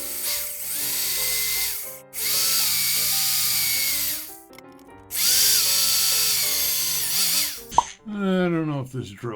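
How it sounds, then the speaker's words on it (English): Power drill boring a small hole during repair of a Sunn Spectrum 1 amplifier, two long whining bursts with pitch sliding as the motor loads and spins down, then a brief clatter and a short rising whir at the end. "let's put a small drill hole in"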